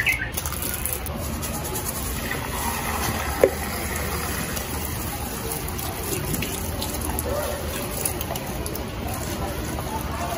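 Salt water poured over bitter gourd (ampalaya) in a kitchen, a steady close wash of running water lasting the whole stretch, fairly loud and continuous with no talking over it.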